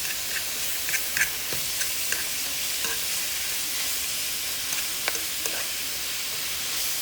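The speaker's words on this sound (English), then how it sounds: "Let this meat cook. Let these onions cook." Meat and onions cooking down in a pan for lasagna sauce, a dense continuous hissing sizzle held steady throughout, dotted with small pops and faint clicks, no voices.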